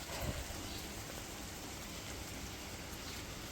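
Rain falls steadily during pre-departure preparations for the Pandharpur Vari pilgrimage at Alandi, a soft continuous patter, with a brief louder knock or splash near the start and no talking.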